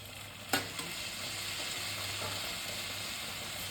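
Cilantro, curry leaves and chopped tomatoes are added to hot oil with cumin seeds and black pepper, giving a steady hissing sizzle with a short clatter near the start and a low stove hum underneath.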